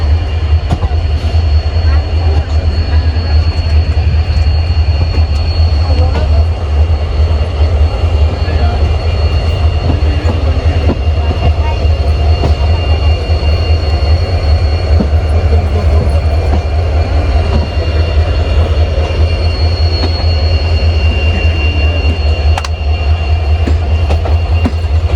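The 12237 Begampura Express, a passenger train from Varanasi to Jammu Tawi, rumbles past continuously at close range, with loud steady wheel and carriage noise and rhythmic clatter for the whole stretch.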